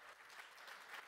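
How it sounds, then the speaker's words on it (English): Audience applause at a tech conference keynote demo session, a brief, faint patter of clapping hands from the crowd. "let's clap for you first"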